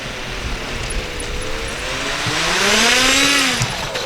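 An E-flite Twin Timber RC airplane flies in wind, its twin electric motors whining steadily and rising in pitch as it passes closer, loud against a windy background.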